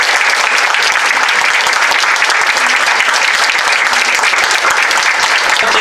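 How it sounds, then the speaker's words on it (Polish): A theatre audience applauds after an amateur stage performance in a village, loud and dense. Many hands clap in a continuous, unbroken wash that holds steady for several seconds. "więc brawa dla nich"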